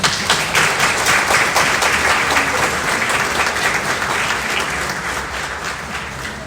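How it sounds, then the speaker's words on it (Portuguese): A church congregation applauds during a feast-day homily for Saint Anne and Saint Joachim, a dense, steady roar of clapping from many hands that fades slightly toward the end, with no voices on top. "Palmas para eles, né?"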